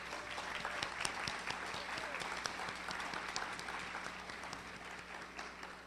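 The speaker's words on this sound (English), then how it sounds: "Let's give all of our nominees and winners a final round of applause." Audience applause for award nominees and winners at a school district STAR awards event, a steady dense wash of many hands clapping throughout, moderately distant in a large room.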